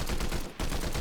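Rapid automatic gunfire aimed at a player in Fortnite Chapter 7 Season 2, a loud continuous burst of shots that breaks off for an instant and then resumes.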